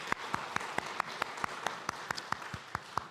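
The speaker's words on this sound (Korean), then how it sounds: "어버이 되신 하나님께 영광의 박수 올려드립니다" Congregation at a Sunday church service clapping in a steady, even rhythm, roughly a dozen sharp claps, moderately distant in a reverberant hall.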